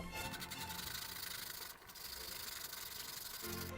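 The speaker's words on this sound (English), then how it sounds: "Apple, or more accurately, about 1/4 of an apple. Take this and grate it in." Quarter of an apple grated by hand into a pot of Japanese curry, a soft continuous rasping scrape heard close and faint, steady with a short dip near the middle.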